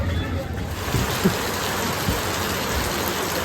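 Heavy rain pours steadily on the road to Gupt Godavari near Chitrakoot, heard from under a juice stall's shelter as a dense, continuous hiss with faint background voices.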